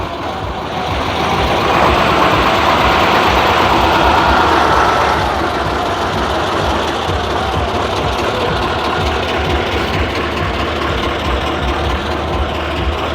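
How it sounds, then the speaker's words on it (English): Dodge fire engine running at an outdoor spring fair in Laughton, East Sussex, a loud, steady engine drone with a constant rumble and mechanical whir, swelling slightly early on and then holding level, with no talk. "Lovely Dodge fire engine."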